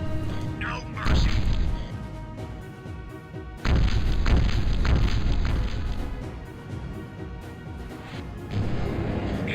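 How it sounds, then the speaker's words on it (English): Flash cannon fire in the Battlezone '98 video game, heavy booming blasts with thudding impacts in several loud bursts, interleaved with game noise and a voice talking over it. "Oh shoot, that's a flash cannon."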